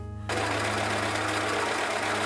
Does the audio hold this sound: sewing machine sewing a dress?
yes